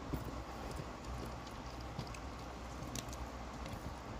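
Horse hooves clip-clopping at a trot across a pasture, steady soft footfalls at moderate distance over a constant low outdoor rumble.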